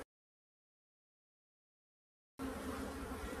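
Honey bees buzz in a dense, steady drone at an opened hive during beekeeping work before the honey flow, heard close by after a long stretch of silence.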